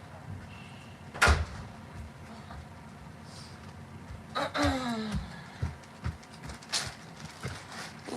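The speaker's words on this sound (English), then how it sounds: "Can you shut that door, please?" An indoor door slams shut with one sharp, loud bang, followed by quieter rustling and scattered household knocks.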